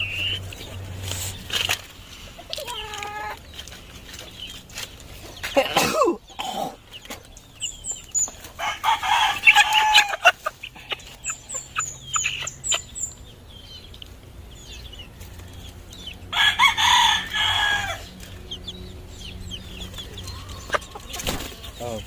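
Chickens on a farm cluck and call in bursts with occasional crowing, against quiet background noise, with a person talking intermittently in between.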